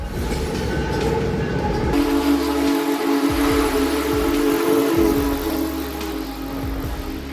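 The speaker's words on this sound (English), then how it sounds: "experiencing the incredible power of one of the world's most legendary steam locomotives" The Big Boy steam locomotive thunders past close by, its horn blaring in a long steady blast over heavy rumbling and clattering wheels.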